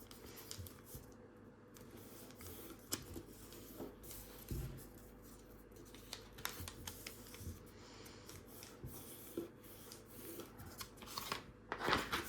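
Paper being folded and creased for an origami futuristic jet, with quiet rustles and crisp crinkling taps up close, most active near the end, and no speech.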